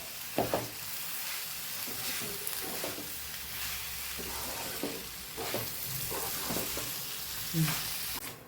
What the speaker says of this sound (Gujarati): અહીંયા કાશ્મીરી લાલ મરચું આપણે ઉમેરીએ છીએ સરસ મિક્સ કરી લઈશું